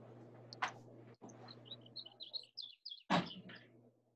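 Several birds chirp and tweet outdoors in a quick, scattered series of short calls, moderately close, with a steady low hum underneath and a couple of brief louder knocks.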